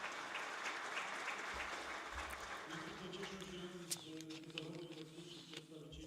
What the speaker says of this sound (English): we would like to welcome you with our applause